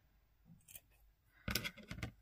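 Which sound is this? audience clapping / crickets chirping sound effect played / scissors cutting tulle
scissors cutting tulle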